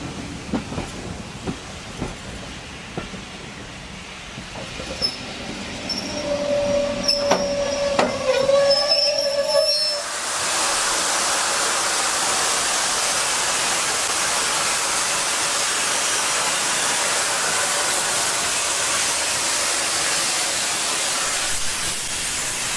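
Adams T3 class steam locomotive number 563, preserved and restored on a heritage railway, with faint rumbling and a thin whistle-like squeal at first, then a loud, steady roar of hissing steam that holds for over ten seconds.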